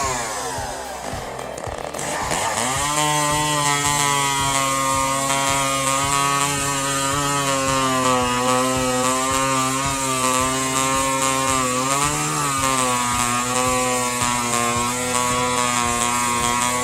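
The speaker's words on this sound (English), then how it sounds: "Meet the Steel MS or 60 centimeters chainsaw, a true powerhouse in woodcutting." A 70 cc chainsaw with a 60 cm bar screams at high revs while cutting wood, holding a loud, continuous drone with a slight dip and rise in pitch partway through.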